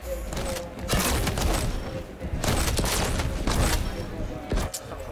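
Rapid weapon fire and blasts from a Quake Champions multiplayer match, with a nail gun in use, roll through dense bursts of loud, crackling shots and booms over game noise, while players talk over it.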